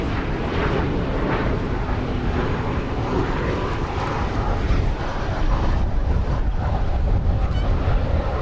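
An Aeromexico Connect airliner from Mexico City at Dallas Fort Worth airport gives a steady, loud, broadband engine roar that holds throughout, with rumbling low end and no talk.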